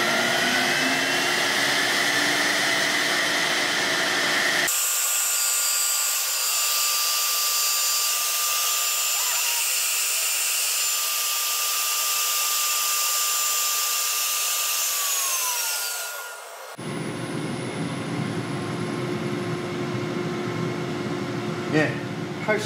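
A woodworking machine taking a 0.5 mm pass off a piece of wood gives a loud, steady high whine and roar that runs down near the end, then a lower clattering hum continues.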